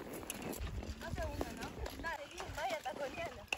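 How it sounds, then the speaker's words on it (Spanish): Horses' hooves clip-clop at a steady walking pace on a countryside ride, close and continuous under people talking in Spanish. "ahora vamos a andar a caballo"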